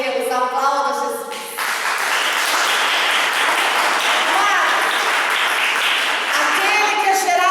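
Church congregation bursting into sustained applause and clapping after a sung or spoken passage, loud and broad, filling the room for several seconds with no talk over it.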